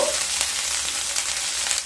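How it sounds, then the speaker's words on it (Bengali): Chopped garlic and ginger, with whole cumin and a dried red chilli, fry in hot oil in a steady, loud, continuous sizzle, with no voices over it. "এবার দিয়ে দেব 1 চামচ কুচিয়ে রাখা রসুন, 1 চামচ আদা দিয়ে একটু নেড়ে নেব"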